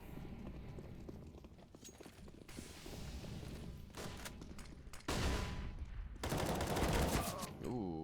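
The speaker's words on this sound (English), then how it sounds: "Couple of missed shots there from Pendulum." Gunfire in an ESEA Advanced esports match of a tactical shooter game, with several loud, sharp bursts of shots and short volleys that break through steady game ambience.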